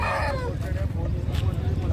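A rooster at the Gudur Friday poultry market crows once at the start, a short fading call over crowd noise and talking in the background.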